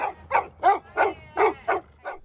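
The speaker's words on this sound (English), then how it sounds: "The sound of dogs barking is not uncommon here at New Horizons" Service dogs bark in a steady, rapid string of about seven close, loud yips, with short gaps between each bark.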